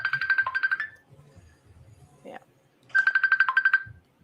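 A mobile phone ringtone plays a bright, rapidly pulsing electronic chime, sounding once and then again after a pause, with a brief spoken word and faint voices in between.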